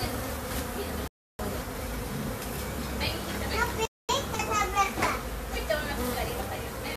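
A dense swarm of honeybees arriving at empty beehives, a steady loud buzzing hum that fills the whole stretch, with voices talking over it and two brief dropouts.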